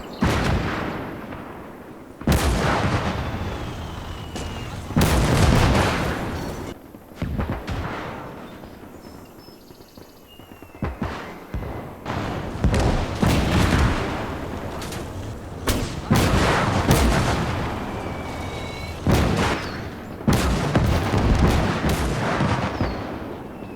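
Artillery cannons firing in Gates of Hell, a barrage of loud, sharp booms at irregular intervals with rumbling tails, some shots bunched close together and others spaced out, over a steady battle din.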